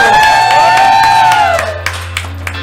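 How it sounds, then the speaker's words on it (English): A live game show studio audience cheers and applauds a contestant, with loud whooping and clapping that swells at first and then thins into scattered claps. "Let's give it up for Melody Mello!"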